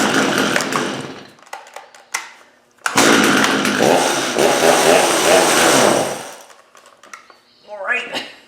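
A STIHL MS250 chainsaw on half choke catches after a pull and roars loudly for about three seconds before dying, with a few short sputters before it and brief speech-like sounds near the end.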